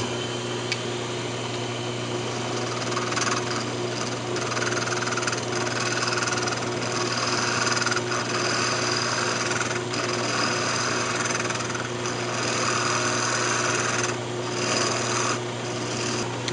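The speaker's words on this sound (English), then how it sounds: "Now we'll just go ahead and turn a tenon down on this and mount it back on." Wood lathe turning a tenon on a wooden perfume bottle blank: a steady motor hum under a continuous rasping scrape of the tool cutting, close and even throughout with no talk.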